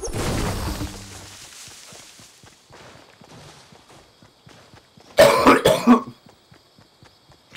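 A short burst of harsh coughing, two or three rough hacks close to the mic, standing out against a quiet background with faint ticking.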